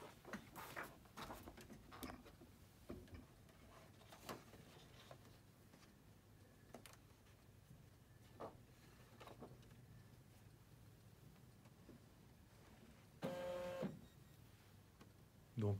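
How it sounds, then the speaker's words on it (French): An EmBraille braille embosser draws in a single sheet of paper, with faint mechanical clicks and taps, then a short motorized whir as the page settles into place, all quiet and close. "quand on insère la feuille, elle se met en place"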